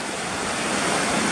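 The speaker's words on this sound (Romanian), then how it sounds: "Ea e marea. Mă rog, de fapt e oceanul." Ocean surf washes steadily onto a beach at Cádiz in Spain, a dense, continuous hiss of breaking waves with some wind, loud and close, no voices.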